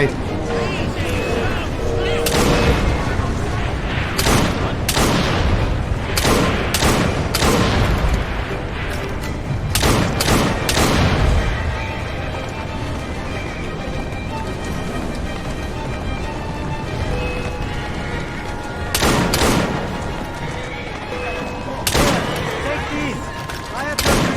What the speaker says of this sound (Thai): คนมันเป้าแคบครับยิงม้าง่ายกว่าเป้าใหญ่